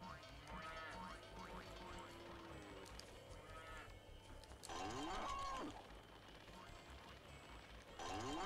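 Cows moo in the video game Spyro: Enter the Dragonfly, with drawn-out, wavering calls that come in a few separate bursts among other game sounds and a voice.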